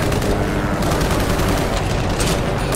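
Dense continuous gunfire from the video game Call of Juarez: The Cartel, a loud rapid rattle of shots layered with booms, near and unbroken, with no voices.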